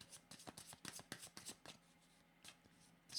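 Tarot cards being shuffled by hand, a quick run of soft riffling flicks in close, quiet bursts, then a pause and a final flurry, with no talking.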